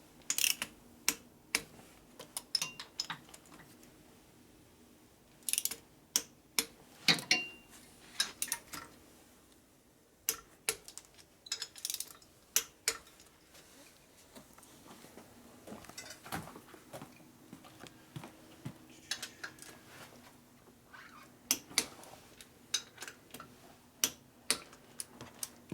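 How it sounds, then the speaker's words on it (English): A ratcheting torque wrench tightens cylinder head bolts on a Harley FXR during a top-end rebuild, giving quiet bursts of rapid mechanical clicks with short pauses between pulls and no talking. "I'm going to torque it until it goes all the way."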